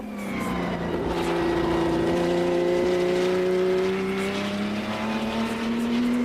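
Porsche 917 race car engine droning at close range, a loud steady tone slowly rising in pitch as it builds speed, with no voices over it.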